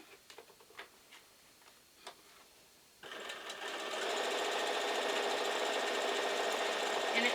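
A sewing machine stitches quilt block pieces together, starting after a few soft ticks and clicks, then running steadily with a fast, buzzing, rhythmic hum that gets slightly louder and continues to the end.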